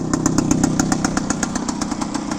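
A 1975 Suzuki RV125K Tracker motorcycle with a small two-stroke engine runs at a steady idle up close, its exhaust popping in a quick, even rhythm with no talk over it.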